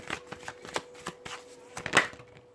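Tarot cards being shuffled by hand, a string of soft papery riffles and taps with brief pauses between bursts, close and fairly quiet in an otherwise still room.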